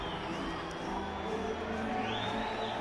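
A rugby match crowd reacting to a tackle, a continuous swelling roar of jeers and shouts from a large stadium audience, fairly loud, with commentators talking over it.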